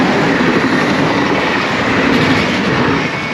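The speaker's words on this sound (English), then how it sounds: "That train went by really fast" A train rushing past at high speed close by a track in Poland, a loud continuous rumbling roar with rattling wheel noise that holds steady throughout, with no talk.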